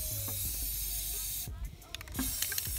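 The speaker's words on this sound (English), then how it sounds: "You're spraying the bucket, you're not spraying the water." Aerosol spray paint can hissing in short bursts into a bucket of water for hydro dipping light switch covers, with a steady hiss then broken spurts, close by, with people talking nearby.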